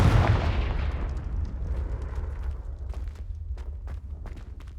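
An explosive curse spell bursts with a loud boom in a wizarding action game, its rumble decaying over several seconds while faint clicks and light thuds follow.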